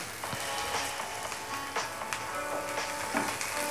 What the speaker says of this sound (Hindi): हल्का सॉफ्ट होने तक प्याज को भी हमें भूनना है।